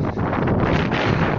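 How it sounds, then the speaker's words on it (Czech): Wind buffets a microphone outdoors during a football crossbar challenge, a loud, steady low rumble that fills the whole moment with no other sound clearly standing out. "To bylo asi vítr, no."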